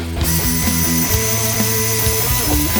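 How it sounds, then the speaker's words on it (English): A power wire brush spins against engine parts and an alternator bracket during an engine rebuild, a loud whirring grind with tonal ringing and rapid rattling contact, continuous and close. "So I'm gonna take wire brushes to this stuff here"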